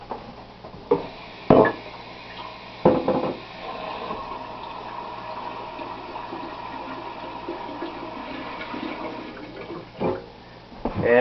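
Water is poured into a container, a steady splashing fill running for several seconds between a few sharp knocks and clunks, fairly close and with no talking.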